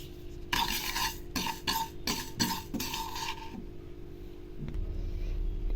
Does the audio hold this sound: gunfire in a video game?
no